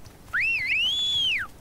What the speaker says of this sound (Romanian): Tu fluierași, mă? Eu fluier, mă, hai.